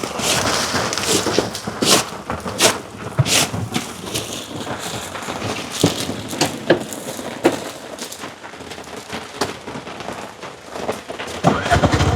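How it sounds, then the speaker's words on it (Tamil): Rain falls steadily as a dense, continuous hiss with scattered sharper patters, close and moderately loud over about twelve seconds. Nobody speaks clearly over it. "மழை பெய்யுது"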